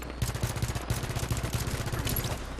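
Rapid automatic gunfire from the video game Halo 5 Warzone rattles in a dense, continuous burst, loud and close, with explosive game effects layered over it.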